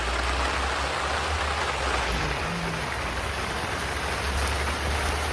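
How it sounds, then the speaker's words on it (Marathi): Steady rain on a shepherds' camp during a sudden pre-monsoon shower, falling as an even, continuous hiss close by with no voices over it. "वरून वरून पाऊस आलाय"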